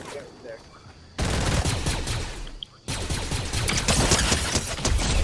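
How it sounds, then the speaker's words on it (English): Rapid bursts of gunfire from the video game Fortnite come in two dense, loud volleys separated by a brief lull, over quieter game ambience. "I heard shooting."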